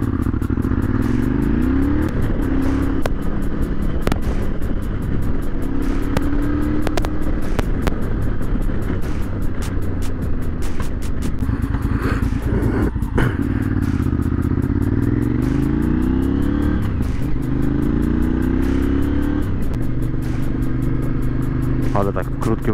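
Motorcycle ridden on a road on a hot summer day, with a steady engine drone and wind rush running loud and continuous throughout, while a rider talks over it.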